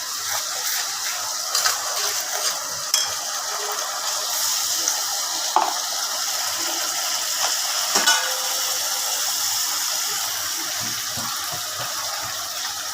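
Onions sautéing with garam masala, coriander, cumin and other spices in a pan for chicken roast, a steady close sizzle and hiss with occasional stirring scrapes.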